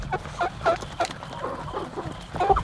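Backyard chickens clucking nearby in short irregular bursts, a few soft calls spread across the moment with quiet background.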